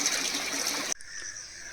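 Spring water in a Himachal village flows and splashes steadily, close and continuous, with an abrupt shift partway through to a thinner, quieter trickle.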